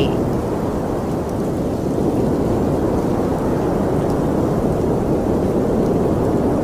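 Heavy rain pours down in a dense, unbroken roar, loud and steady throughout with no voices.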